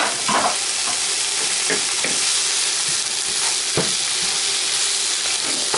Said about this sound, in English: Now I'm going to put the frozen mushrooms in.